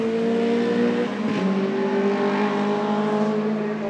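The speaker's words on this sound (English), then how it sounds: "Frank Bedoff in a Renault Clio goes by Hank Teppel's BMW Silhouette." Race cars, a Renault Clio and a BMW Silhouette, pass on the Zolder circuit during a Supercar Challenge race, a loud sustained engine roar with a pitch shift as they go by close.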